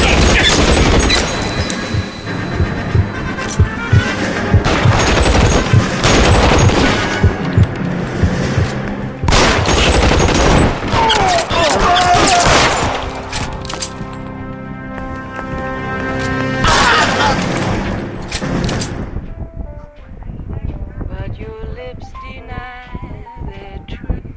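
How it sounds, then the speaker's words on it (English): Heavy gunfire from an L.A. Noire police shootout, with dense bursts and volleys of shots that are loud and continuous, then thinning out toward the end, and no talking. "Shots fired."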